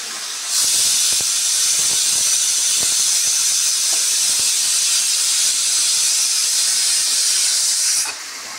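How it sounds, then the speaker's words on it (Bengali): A pressure cooker whistle blows steam in one loud, steady hiss lasting about seven and a half seconds while potatoes are being cooked, then it cuts off abruptly. "প্রেশারে শীষ পড়ে যাচ্ছে"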